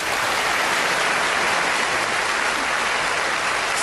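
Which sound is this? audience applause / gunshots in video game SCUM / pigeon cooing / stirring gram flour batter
audience applause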